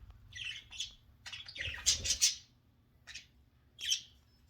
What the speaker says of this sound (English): These are them crazy birds.